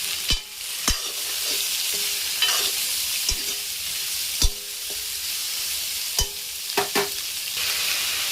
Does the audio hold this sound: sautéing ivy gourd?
yes